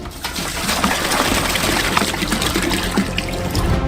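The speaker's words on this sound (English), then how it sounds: "Open the water and pour it out." Water from jugs pours into a saucepan in a steady, close splashing rush that continues without a break.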